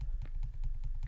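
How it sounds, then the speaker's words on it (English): Rapid keystrokes on a computer keyboard, a steady run of close, light clicks with a few sharper key presses, no voices. "typing Shift right arrow to select all the columns"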